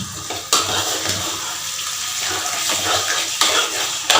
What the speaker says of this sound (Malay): Saya akan tambah sikit lagi air.